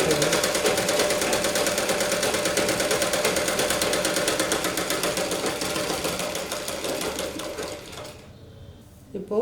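A sewing machine runs steadily, stitching a fancy decorative stitch along the front of a blouse, its fast even needle chatter loud and close before it slows and stops near the end.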